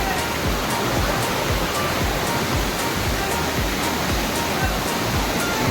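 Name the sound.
Achakanya waterfall rushing water in Western Ghats forest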